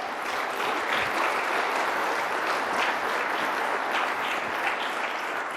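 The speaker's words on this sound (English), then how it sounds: "So an applause for our panelists" Steady applause from an audience for a panel of speakers, sustained dense clapping at moderate volume with no pauses for the whole stretch.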